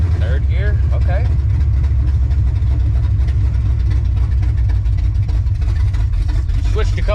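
A car with no power steering runs at a steady low rumble after being shifted up through first, second and third gear, the engine note loud and close throughout while a person talks over it.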